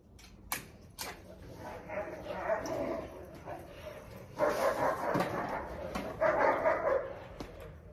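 Dogs bark and whimper outdoors at dusk in Alanya, Turkey, with sharp yips and whines mixed into steady background noise, growing louder in short bursts toward the end.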